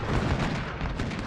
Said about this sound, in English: Alright, the artillery is really doing a number.